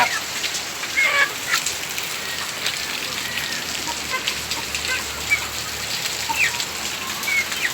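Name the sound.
heavy morning rain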